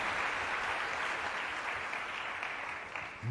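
A church congregation claps loudly and continuously, a dense wash of applause from many hands filling the room, holding steady and tapering only slightly at the end.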